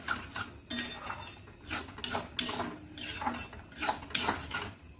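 Fresh cream being stirred into palak paneer in a pan, with a spoon scraping and clinking against the metal in an irregular series of close, moderately loud strokes and a low hiss of cooking beneath.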